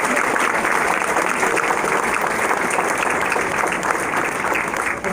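A school concert audience applauds for a fourth-grade class after their singing, steady sustained clapping from many hands filling the whole stretch at an even, loud level with no talk over it.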